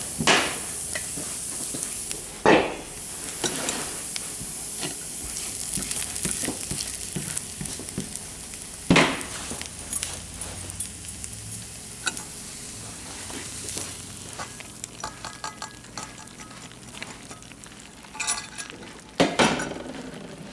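Browned onions are tipped into a pot of soup and stirred, giving a close sizzle with clanks of a utensil against the pot, several sharp scraping bursts spread through a steady frying hiss, no talk.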